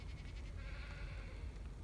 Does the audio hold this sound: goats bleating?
yes